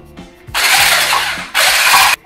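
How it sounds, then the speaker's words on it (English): Room-temperature butter whisked in a bowl for baked yoghurt and mulberry tarts, two loud bursts of steady buzzing, like an electric mixer, about a second and half a second long with a short pause between. "So very carefully we will whisk"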